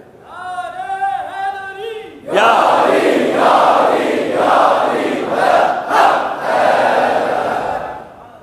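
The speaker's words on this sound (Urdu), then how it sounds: "وہ نعرہ واپس دے دو جو عزیز بھٹی نے لگایا تھا اور جو 65 میں گونج رہا تھا پوری دنیا میں، نعرہ حیدری" A religious crowd at a Muharram gathering bursts into a loud, sustained collective shout of the Naara-e-Haidri slogan, rising in waves after a short sung or chanted phrase at the start.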